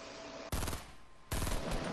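Two loud bursts of gunfire in the video game Fortnite, about a second apart, each a sharp close blast that rings on briefly.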